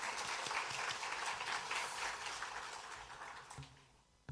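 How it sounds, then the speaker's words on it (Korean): A church congregation applauds during a Sunday worship service, steady clapping from many people that gradually fades and ends abruptly. "박수로 하나님께 영광 올려드리겠습니다."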